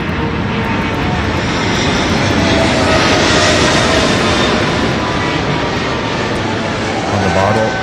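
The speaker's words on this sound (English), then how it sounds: "They're all looking up at this very large aircraft." A very large Boeing 777 jet flies low over a golf course, its engine roar loud and steady, swelling as it passes overhead and filling the whole stretch without a break.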